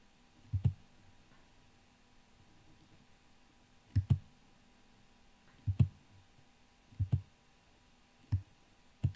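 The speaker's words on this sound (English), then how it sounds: "let's see together what happens when I type" Keys struck on a computer keyboard, about eight sharp clicks in irregular bursts spaced a second or more apart, close and clear over a quiet background.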